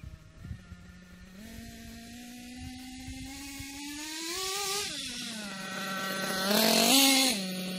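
A Kyosho KE25 nitro engine running rich during break-in at a little under half throttle, a close, buzzing whine that climbs and dips in pitch several times and swells louder near the end, with no voices.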